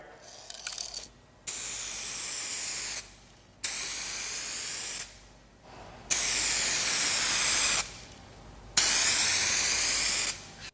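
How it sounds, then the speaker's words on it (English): A spray gun lays down 2K clear coat in four long, loud hissing bursts with brief pauses between them, close and steady, preceded by a short clatter of handling. "you're spraying 2K clear coat"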